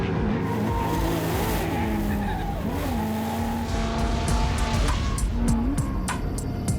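Drift cars at a competition drifting event scream their tires in long, wavering squeals over loud revving engines. The sound is continuous and fairly close, with brief bursts of crowd or background noise.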